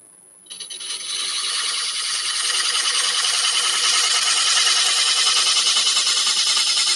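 A woodturning scraper bears on spinning ash end grain on a lathe, making a loud, continuous, rough scraping hiss that starts abruptly and holds steady for several seconds.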